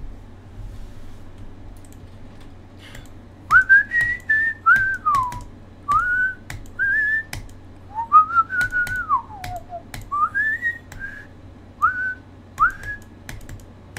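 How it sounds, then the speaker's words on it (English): A person whistles a quick, wavering tune of short rising and falling phrases, close and clear, with faint keyboard taps and clicks underneath. "I don't think Discord picks up my whistling, but Stream probably picks up my whistling."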